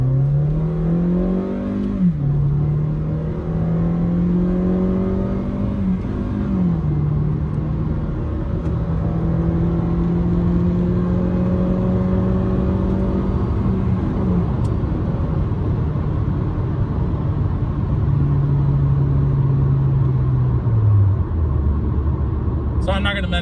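A 2015 Kia Optima with 122k miles, a muffler delete and a cold air intake accelerates hard in manual mode. Its loud, raspy exhaust drone climbs in pitch, drops at each gear shift, then rises again over about twenty seconds.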